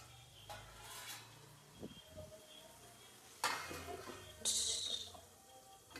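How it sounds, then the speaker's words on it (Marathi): A metal lid clinks twice onto a pot of mutton cooking on a home stove, with soft kitchen rustling and a faint simmer in between. "त्याच्यावर मी ठेवते झाकण"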